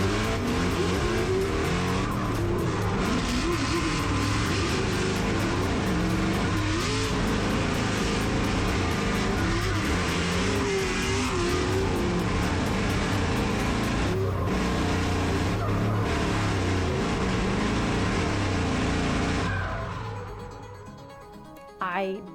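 A Formula Drift race car at New Jersey drifts with its engine choking and breaking up, tires squealing and the motor roaring loudly and continuously under commentary before fading out near the end.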